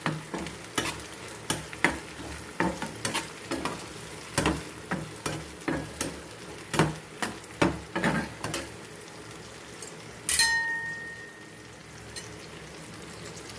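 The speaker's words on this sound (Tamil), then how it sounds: "தக்காளி நல்லா வதங்கிடுச்சு." Onions and tomatoes sautéing in a pan for a Tamil sundakkai fry, with a steady close sizzle and a string of sharp spoon scrapes and stirring clacks, then a brief metallic ring near the end.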